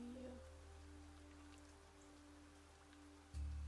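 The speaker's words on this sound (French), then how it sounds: "Il pleut, il mouille." Rain falls in a video game as a faint, steady hiss of patter under low tonal game hum, continuing evenly throughout with no talking.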